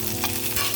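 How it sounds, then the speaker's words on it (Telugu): Cumin and mustard seeds crackle in hot oil for a chana dal chutney, a brief close burst of bright sizzling with a faint stir, no voices. "ఆయిల్ హీట్ అయ్యాక నేను జీలకర్ర ఆవాలు వేస్తున్నాను"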